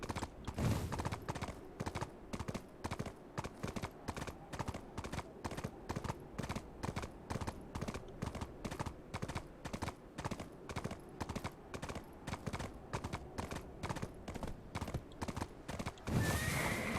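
A horse gallops in the Black Desert video game, fast rhythmic hoofbeats throughout with a loud whinny near the start and again at the end.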